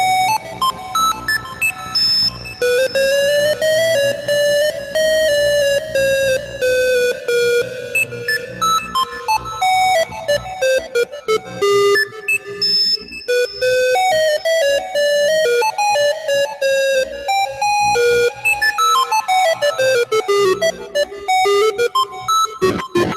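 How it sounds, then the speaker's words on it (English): Atari 2600-style synthesized tones from a Pure Data patch: loud, continuous buzzy electronic hum with sliding pitched lines and a rapid stream of bleeps, running alone throughout. "That's the hum of the Atari."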